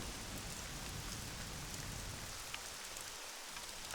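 Rain falls steadily in the survival video game Scum as a soft, constant hiss of drops that stays even and faint throughout, with no voices.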